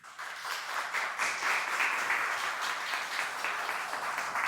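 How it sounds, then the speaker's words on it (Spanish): An audience at a panel discussion welcomes a speaker with sustained, even applause from many hands at moderate distance, lasting the whole stretch without voices. "le recibimos con un fuerte aplauso"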